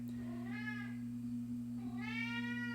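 A cat meows twice, each call a rising-then-falling tonal cry, close and clear over a steady low electrical hum.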